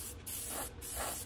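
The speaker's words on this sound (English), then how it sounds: "And I've sprayed at about 20." Spray paint hissing from a can onto a stencil for artwork, two close, steady bursts with a brief pause between them.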